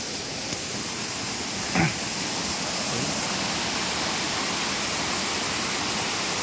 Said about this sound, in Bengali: বামুনি ফলসটা দারুণ লাগছে, দারুণ লাগছে।